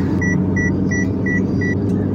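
A car drives along a quiet, repaired city road in Saudi Arabia, its steady interior road rumble overlaid by five evenly spaced electronic beeps.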